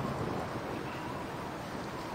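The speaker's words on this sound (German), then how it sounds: "Okay, hier ist ein Gewitter" Rain from a thunderstorm in the video game Baldur's Gate: a quiet, even wash of rainfall with no distinct thunderclap, steady and unbroken for the whole short stretch.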